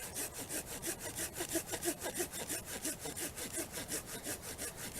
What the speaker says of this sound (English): These pruning saws that most bushcrafters use are actually designed to prune.